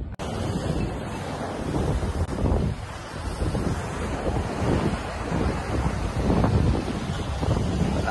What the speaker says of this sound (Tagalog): Taas yung hangin.